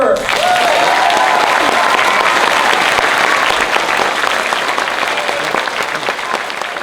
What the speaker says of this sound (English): a round of applause for Mrs. Weaver